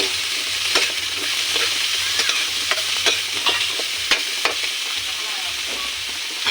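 Carrots and vegetables stir-frying in a pan, a constant close sizzle broken by repeated sharp scrapes and taps of a utensil against the pan.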